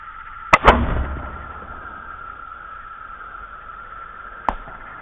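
A bow shot at a target during freehand long-range shooting: one sharp release crack followed at once by a second thump, then a faint distant impact about four seconds later, over a steady background hum with no talk.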